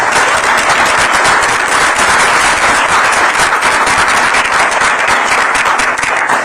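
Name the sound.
round of applause for Senator Ed Markey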